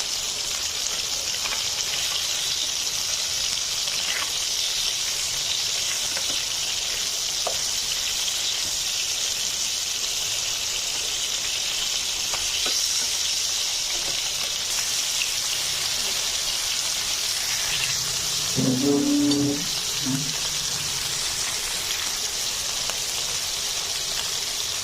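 Bata fish fry in a pan with a steady, loud sizzling hiss throughout, broken by a brief clatter or voice near the end.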